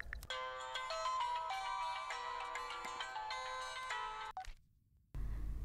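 An electronic telephone ringtone warbles continuously for about four seconds, clear and sustained, then cuts off abruptly before a short burst of room noise.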